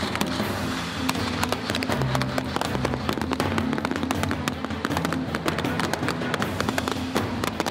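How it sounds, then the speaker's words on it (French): Soldiers firing blank rounds during an attack exercise toward a church, dense rapid cracking gunfire from several weapons, loud and continuous throughout, with faint voices underneath. "Les soldats tirent des balles à blanc."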